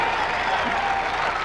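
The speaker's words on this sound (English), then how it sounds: "Crowd really trying to motivate." Crowd cheering and applauding at a 2005 girls high school basketball championship game in a gym, a dense, continuous roar of clapping and voices with no pauses.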